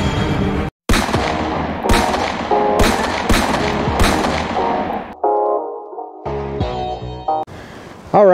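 Loud, sharp shots from an Edgun Leshiy 2 semi-auto PCP airgun at an outdoor range, about five cracks roughly a second apart, each with a quick decay, followed by a few shorter mechanical clicks and bursts.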